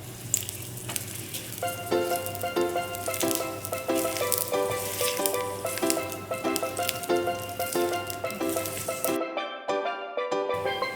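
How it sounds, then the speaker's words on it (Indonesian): Chopped garlic fries over low heat in a wok for chicken swikee, giving a steady, close crackling sizzle that runs almost the whole time under tonal background music, with the sizzle dropping away near the end. "Api kecil tetap digunakan untuk menggoreng bawang putih."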